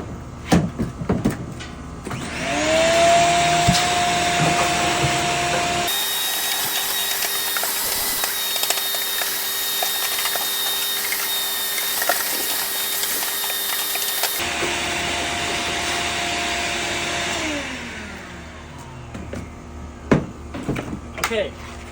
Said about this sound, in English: So I'm going to go ahead and vacuum this out right now.